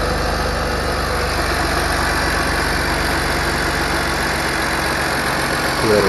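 Car engine running at a steady idle after a gasket repair, a loud, even rumble with constant vibration close by, and a brief change in tone at the very end.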